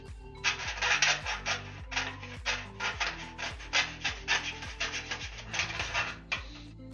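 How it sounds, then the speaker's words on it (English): Hand filing of rivets on aircraft flap parts for a homebuilt plane: a close series of rhythmic rasping strokes, about a dozen back-and-forth passes of the file against metal, with brief gaps between. "We'll have to file these last two down here"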